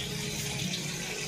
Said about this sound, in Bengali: এটাকে ধুয়ে নিই।